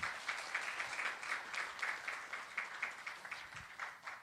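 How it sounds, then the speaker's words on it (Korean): Steady, moderately distant applause from a lecture-hall audience at a university special lecture, greeting an invited speaker as a continuous even patter of many hands. "박수로 모시겠습니다."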